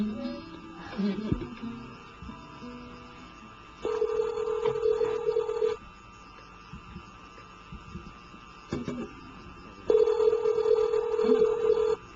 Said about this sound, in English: I'm dialing the number of Mr. Jeff Buckley.